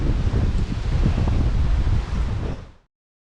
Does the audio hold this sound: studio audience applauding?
no